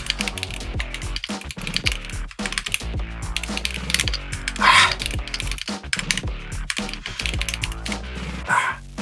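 Rapid, steady typing on a OnePlus x Keychron Keyboard 81 Pro mechanical keyboard during a speed test, dense clacking keystrokes close up throughout with brief pauses and a few louder bursts, no talking.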